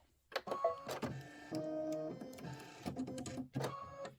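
A computerized embroidery machine stitches a quilting stitch in a series of mechanical bursts, whirring and pausing with rapid rhythmic needle clatter, close and clear with no talking.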